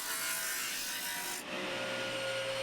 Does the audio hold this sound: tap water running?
no